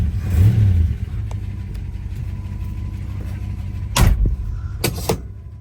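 A 1958 Plymouth with a four-barrel single-carburetor engine cranks and fires, rising into a throaty rev before settling into a low, steady idle, with two sharp metallic knocks or door-like bangs near the end.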